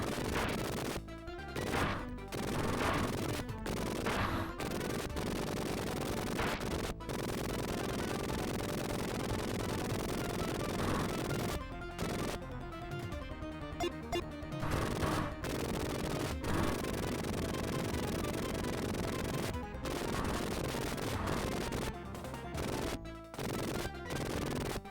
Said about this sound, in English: Just threw a volley of grenades over the wall.